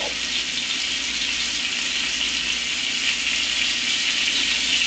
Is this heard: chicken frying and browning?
yes